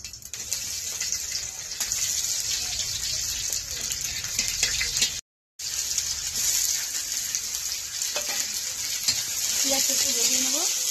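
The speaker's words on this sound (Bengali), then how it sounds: "জিরে ফোড়ন, রসুন কুচিটাও দিয়ে দেবো।" Cumin seeds and chopped garlic sizzling in hot oil, a dense close hiss broken by a brief silent gap, with light stirring scrapes and a faint clink near the end.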